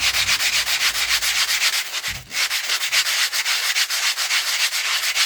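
Sanding blocks rubbed back and forth over a surface during a quality test, producing loud, rapid rhythmic scraping strokes with a brief pause partway through.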